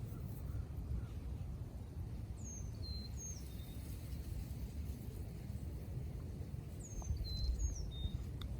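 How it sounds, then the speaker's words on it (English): A single bird chirping outdoors in a public place, giving faint, brief high chirps in two small bursts over a steady low background rumble. "Hope you guys will enjoy this bird that keeps chirping."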